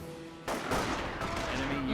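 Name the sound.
sniper rifle shots in a video game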